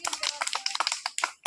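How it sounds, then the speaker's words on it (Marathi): A group of schoolchildren at a small settlement school clap their hands in a short, quick burst of uneven, close claps. "टाळ्या वाजवा रे"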